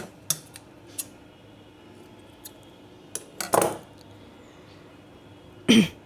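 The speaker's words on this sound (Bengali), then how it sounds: "চেইন করে এই সুতাটিকে টাইট করে তারপর কেটে নেব" Scissors snip crochet thread in a few short, sharp clicks spaced apart, close and crisp against a quiet room, with a couple of louder handling noises.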